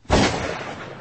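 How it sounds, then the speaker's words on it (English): Gunshot sound effect played on a talk radio show: a single loud, sharp blast with a decaying rumbling tail, heard alone. "The gunshot sound effect?"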